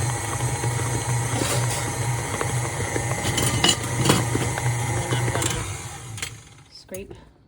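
A spatula scrapes snickerdoodle cookie dough around a mixing bowl with scattered clinks and scuffs over a steady low machine hum, fading out near the end.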